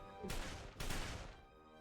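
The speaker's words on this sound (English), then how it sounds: "I hear the sound of gunfire." Two sharp bursts of video game gunfire in quick succession, moderately loud, with a brief decay after each.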